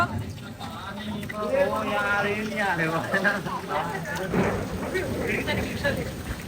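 Heavy rain pours down during a sudden downpour in Nagpur, a steady broadband hiss running continuously beneath loud, close conversation.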